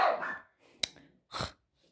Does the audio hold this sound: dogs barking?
yes